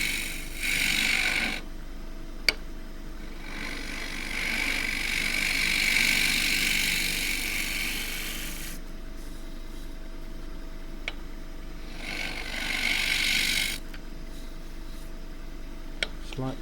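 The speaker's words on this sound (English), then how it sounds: "I have more control over the shape with a scraper" A wood-turning scraper cuts into a spinning Kauri pine bowl on a lathe, producing long rasping passes in steady bursts over a constant motor hum, with short pauses between cuts.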